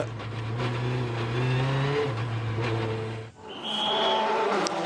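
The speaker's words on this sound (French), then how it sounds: "Et les grands débuts de cette Volkswagen Polo R." A Volkswagen Polo R rally car launching from the start at the Monte Carlo Rally, its engine droning and climbing in pitch, then cutting briefly before revving hard again as it pulls away, fairly near.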